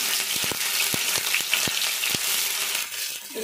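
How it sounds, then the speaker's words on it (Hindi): Chopped medium onion frying in hot oil in a kadhai, a steady dense sizzle throughout with a few soft stirring knocks, close and alone without talk. "एक कढ़ाई गरम कर लिए हैं इसमें तेल भी डालकर गरम कर लिए हैं और एक कटा हुआ प्याज इसे फ्राई कर"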